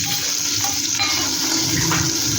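Steady sizzling and crackling of a hot oil tempering in a pan, with soft stirring scrapes as cooked red pumpkin is added; no voices.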